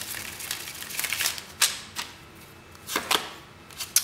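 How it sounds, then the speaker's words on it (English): Tarot cards being shuffled in a card reading, giving a run of crisp riffling and slapping bursts, with sharp isolated snaps near the end, close and fairly quiet with no talking. "One more shuffle for pile number 4."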